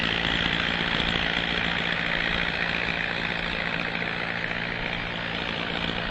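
Hawker Hunter jet aircraft engines run at an air base, a steady loud roar that holds throughout with no voices.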